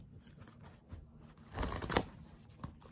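Psychic Tarot cards being shuffled, soft riffling with a louder burst of fluttering cards near the middle, close and quiet in an otherwise still room.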